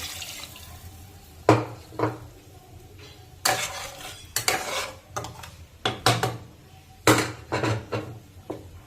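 Water and sour yogurt added to a pan while cooking eggplant curry, with splashing pours and clinking of utensils against the cookware in a handful of uneven bursts, fairly close and with no talking.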